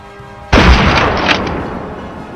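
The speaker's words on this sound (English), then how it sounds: "The first shot rings out." A single loud gunshot from a hunting rifle aimed at wild boars cracks out outdoors and rolls away in a long, fading echo.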